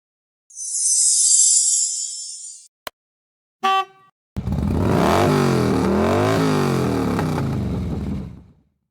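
A Keeway TX125S 125cc supermoto motorcycle engine comes in close after a soft hiss and a few sharp clicks, then runs for about four seconds with rising and falling revs before cutting off, with no voices.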